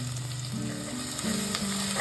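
Crushed ginger, green chili and garlic sauté in hot oil for a Tamil Nadu-style rasam, giving a steady, close sizzle with stirring scrapes throughout and no voices.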